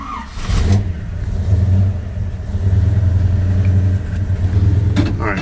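A car engine running warm on a chilly day, idling with a steady low rumble and then revving up several times, close and loud throughout.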